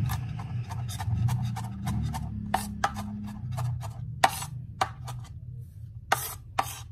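Small garlic cloves chopped with a knife on a board, giving scattered sharp, close taps at an uneven pace over a low steady background hum, no talking.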